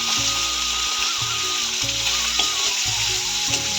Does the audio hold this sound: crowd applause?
no